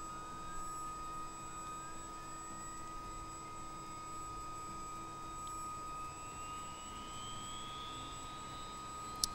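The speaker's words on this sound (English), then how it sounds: "I'm gonna start engine one." A CH-47D helicopter engine starts up in a motion simulator, a faint, steady hum layered with thin high whines, one pitch slowly rising as the engine spools up, ending with a small click.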